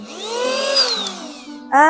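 A small portable handheld vacuum cleaner, blower-like, whirring close by with a rising and falling motor whine that dips briefly before surging back up to a louder, higher pitch.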